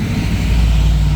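A Bugatti-style 300 Plus supercar arriving on a Monaco street, a loud, deep, close engine rumble with a steady low droning note held through the short moment.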